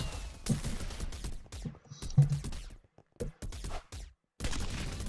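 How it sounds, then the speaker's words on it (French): Fragmentation grenades exploding in a Minecraft Hypixel war game, a burst of sharp, crackling blasts going off in quick succession with brief gaps between them, close and fairly loud. "je vous ai pas fait tester les explosions électriques et les grenades à fragments"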